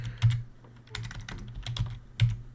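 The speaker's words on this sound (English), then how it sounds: "So I'm going to type in" Short bursts of keystrokes tapped on a computer keyboard while entering a copy command in a terminal, close and fairly quiet, in a few quick clusters with brief pauses between them, with no talking.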